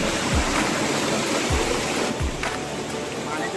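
Water rushing at Kankada Jhara dam near Banki, Cuttack, Odisha, heard as a loud, continuous roar of flowing water with a few dull thumps and faint voices underneath.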